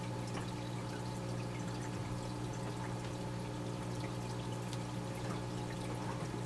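Aquarium water runs through a gravel siphon in a steady, unbroken gurgling flow with soft trickling and a low hum underneath, held close and moderately quiet, with no talking.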